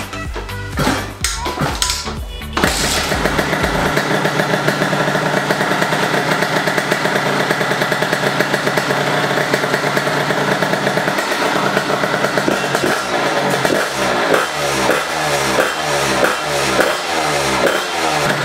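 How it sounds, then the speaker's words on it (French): A 50cc DT motorcycle engine sputters and catches, then settles into a loud, steady idle with rough revs building toward the end. "On va déjà voir si la moto démarre."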